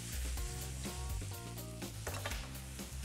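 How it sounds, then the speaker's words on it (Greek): A pan sauce of pasta water and a little soy sauce bubbles and sizzles steadily, a constant close frying hiss with music playing over it and no talk. "θα πήξει περισσότερο καθώς βράζει η σάλτσα μας"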